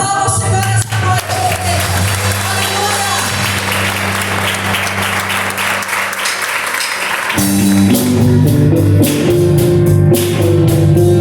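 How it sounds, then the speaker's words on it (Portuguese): A church congregation applauds loudly and continuously during a worship service, sustained clapping over music with a steady pulse, growing fuller toward the end. "Aplauda o Senhor essa noite"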